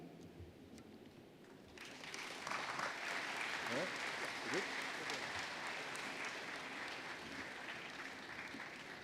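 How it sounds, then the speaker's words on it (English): An audience at an open house event in St. Pete, Florida breaks into applause after a short pause, a steady mass of clapping that holds at moderate level for several seconds. "Again, we can clap."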